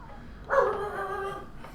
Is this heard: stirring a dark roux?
no